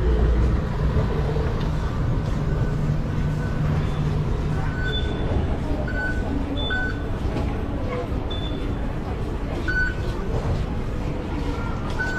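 A monorail train runs toward Sentosa Island, a steady rolling hum with faint squealing tones and occasional chimes, and people talk over the ride.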